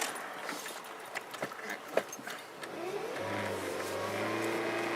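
A car engine rises from a rough idle into a sustained rev, its low hum climbing in pitch and holding steady, heard alone with some clatter before it.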